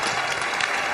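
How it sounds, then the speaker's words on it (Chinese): An audience at a televised job-show studio claps to welcome a singer, a dense burst of applause filling the whole second, close and loud. "来，我们掌声欢迎啊！"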